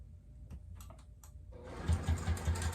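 A sewing machine runs a basting stitch along a fabric dog treat pouch, a quick run of rapid mechanical pulses following some lighter handling clicks, fairly close and heard alone.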